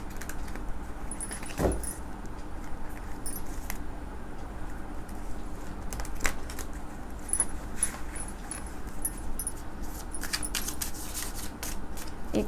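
Tarot cards being shuffled by hand, a quiet papery riffle and slide under a steady background hiss, with a few brief sharper flicks and clicks scattered through.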